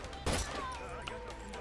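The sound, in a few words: gunshots in a video game 1v1 tournament match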